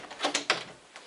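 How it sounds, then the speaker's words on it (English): An interior door is locked and shut, giving a few faint, sharp clicks and knocks in quick succession, then a final soft click a moment later, in a quiet room. "Lock the door so nobody gets in."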